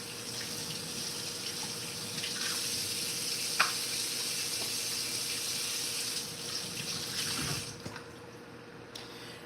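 Collard greens cooking in a pot on a home stove give a steady hiss and gentle bubbling, with a few faint clinks, running continuously before quieting near the end.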